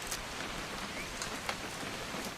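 Steady rain falls in the video game What Remains of Edith Finch, a soft, even hiss of drops with a few sharper patters, faint and continuous with no talking.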